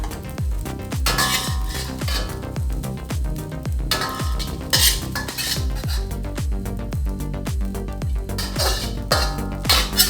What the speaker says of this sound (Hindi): तो हम इसको सर्विंग प्लेट में सर्व करते हैं